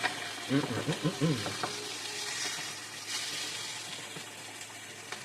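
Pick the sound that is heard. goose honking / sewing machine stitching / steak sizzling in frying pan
steak sizzling in frying pan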